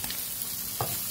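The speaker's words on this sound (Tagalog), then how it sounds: "Titira natin ditong onion at yung sili." Onion and chili pepper sauté in a hot pan for chicken sisig. A steady sizzle runs throughout, and one brief scrape of stirring comes near the end.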